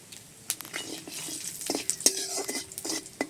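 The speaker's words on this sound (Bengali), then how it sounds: "ফোড়নটা একটু নেড়ে চেড়ে নিচ্ছি।" Dried red chilies and whole cumin seeds tempering in hot oil are stirred with a utensil, giving soft sizzling under intermittent scraping and clinking strokes against the pan, with a faint murmuring voice.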